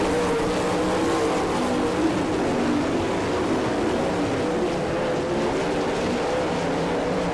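Race cars roar around Attica, Ohio in the 4th heat race of the All Star Circuit of Champions Brad Doty Classic, with a loud, dense engine drone that holds steady and unbroken for the whole stretch.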